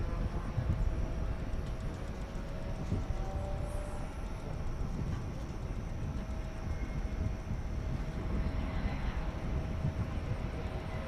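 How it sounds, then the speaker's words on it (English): An Airbus A321 airliner, American 2485 from San Diego, roars as a steady distant rumble at DFW Airport at night, a broad continuous hiss with faint radio chatter beneath. "It's an Airbus A321."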